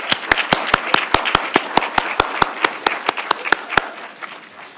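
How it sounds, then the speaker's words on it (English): At a college graduate recognition ceremony, one loud nearby clapper beats out steady, evenly spaced claps over softer applause from the surrounding audience, stopping before the rest of the clapping trails off. "how about a round of applause for everybody here, for yourself, for your colleagues, for everybody who saw you through the program."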